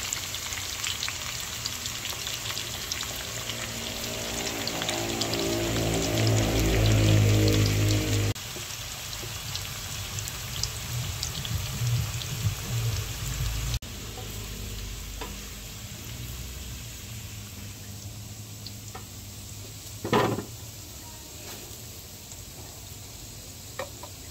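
Potato and carrot pieces fry in hot oil for pork caldereta, giving a steady, dense sizzle and crackle that swells loudly for several seconds, then settles into a quieter bubbling hiss with an occasional sharp pop.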